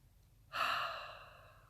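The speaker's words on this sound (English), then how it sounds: "And maybe today we can take a breath into our feet." A single slow, deep breath drawn near the microphone during a quiet guided breathing moment, a soft airy rush that rises suddenly then trails off gently.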